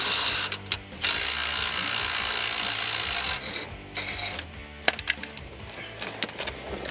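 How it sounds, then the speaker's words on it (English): A wrench works loose a 19 mm bolt on a 2005-2022 Toyota Tacoma front end, with a loud steady mechanical whir that cuts off, followed by scattered metallic clicks and knocks of the tool. "we'll also break free this second 19 millimeter bolt"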